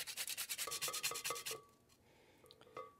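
A whole nutmeg rasps quickly back and forth across a grater, a rapid rhythmic scraping that is close but fairly soft, trailing off into a few slower strokes.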